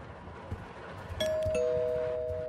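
A two-note ding-dong doorbell rings in the horror video game Suffer The Night, its clear chime tones ringing out over a low, rumbling stormy ambience with no one speaking.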